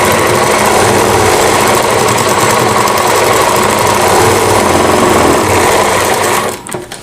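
Sewing machine running steadily at close range while stitching the edge of a blouse piece, a continuous loud whirring drone that stops abruptly just before the end.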